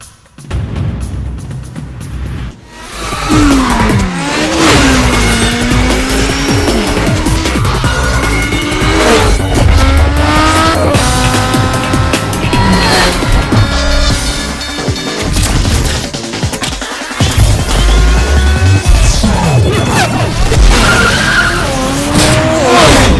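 Racing game Need for Speed Underground: loud, continuous car engines roar and rev with repeated tire skids and squeals, plus occasional crash impacts, running almost the whole time after a quiet start.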